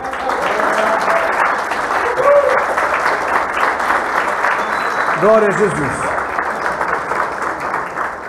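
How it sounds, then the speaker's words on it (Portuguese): A church congregation claps loudly and steadily for Jesus, with a voice calling out praise above the sustained applause. "Bate palmas para Jesus."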